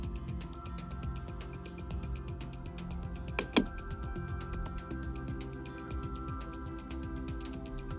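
Fingers type a new password for a Linksys Velop router on a computer keyboard, a quick, regular patter of light key clicks with a couple of sharper taps, close and quiet over a faint hum.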